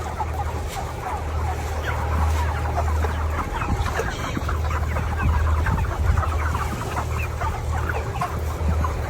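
Many chickens, some unable to stand on their legs, clucking steadily at close range, a dense, busy flock chatter over a low background hum.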